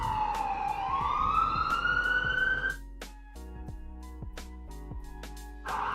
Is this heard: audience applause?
no